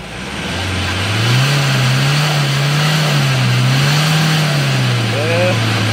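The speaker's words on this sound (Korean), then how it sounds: "포토 차량 장착 전에 한번 밟아 보겠습니다" A Hyundai Porter 2 truck that failed an exhaust smoke test is revved up close: a loud, steady engine drone that rises and wavers as the accelerator is held down, with faint voices in the background.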